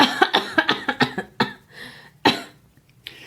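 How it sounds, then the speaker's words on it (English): A fit of coughing: a quick run of harsh, close coughs followed by a few heavier, spaced-out ones, with nothing else around them. "How long have you had that cough?"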